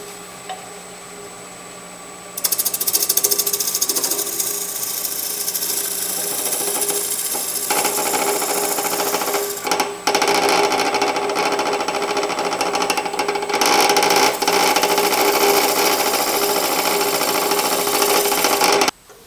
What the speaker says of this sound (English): I'm going to work my way around the bottom of this with a square end scraper